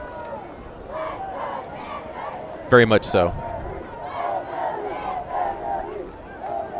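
Home crowd for the Panthers at a high school football game, a rolling murmur of many voices swelling in waves, with a sharp burst of shouting near the middle and a commentator talking over it.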